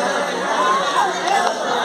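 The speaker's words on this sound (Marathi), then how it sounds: "अशा प्रकारे गर्दी आहे." Crowd of devotees packed into Jejuri's Khandoba temple, a dense, steady murmur of many overlapping voices with no single speaker standing out.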